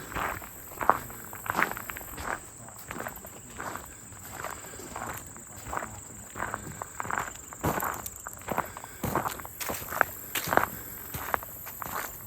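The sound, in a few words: crunchy footsteps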